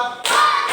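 Classroom pupils at an elementary school clap together on a teacher's cue, a short burst of group clapping following a tonal hum, close and fairly loud.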